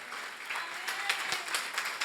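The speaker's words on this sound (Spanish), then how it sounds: "applause is for the King of Kings" A church congregation breaks into sustained applause during a Spanish-English bilingual sermon, a dense steady wash of many hands clapping at close range with no voices over it.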